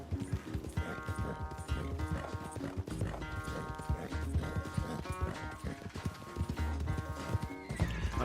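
Hooves of a horse in Red Dead Redemption 2 pound in a fast galloping rhythm during a race, with a whinny rising over the running, game music underneath, and occasional faint speech.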